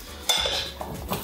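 A utensil clanks against a pan or baking dish while potatoes are tossed with dried thyme and oregano, giving a few sharp close knocks and a soft scrape.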